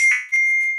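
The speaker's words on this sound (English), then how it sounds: "so my phone's beeping and I'm trying to ignore it." Mobile phone beeping, two short bright electronic tones in quick succession, clear and alone.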